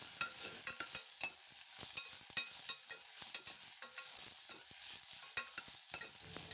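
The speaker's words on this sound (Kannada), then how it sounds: "ಸಾಸಿವೆ ಸಿಡಿದ ತಕ್ಷಣ 1-2 ಮೆಣಸಿನ್ಕಾಯಿ ಹಾಕ್ಬಿಟ್ಟು ಆಮೇಲೆ ಈರುಳ್ಳಿ ಬೆಳ್ಳುಳ್ಳಿ ಎಲ್ಲ ಸೇರಿಸಿ ಚೆನ್ನಾಗಿ ಫ್ರೈ ಮಾಡ್ಕೊಳ್ಳಿ" Onion, garlic and green chilies frying in oil over a medium flame, heard as a soft, continuous sizzle broken by frequent sharp pops and clinks of stirring, fairly quiet and with no talking.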